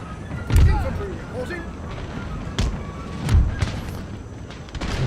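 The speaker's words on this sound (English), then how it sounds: "I've killed most of my own men with one of the bloody cannon shots." Cannons boom in an Empire: Total War battle with DarthMod, three heavy thuds spread over a few seconds amid background battle noise, with voices in between.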